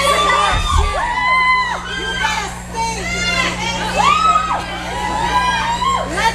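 A concert crowd sings along loudly in unison, many voices blending into a dense, continuous roar with rising and falling melodic phrases and occasional cheers.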